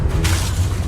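In the Hogwarts Legacy video game, a Confringo blasting spell explodes with a short, loud, deep boom that carries a low rumble through its brief length.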